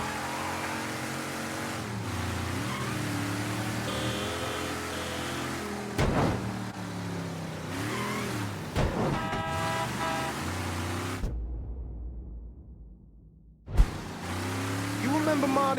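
Car driving in the video game Mafia III, with a steady engine drone, several short horn toots and tonal bursts, two thumps, and a brief drop to near silence before the engine noise returns.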